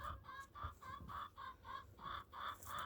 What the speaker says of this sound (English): We have a chicken that gets out.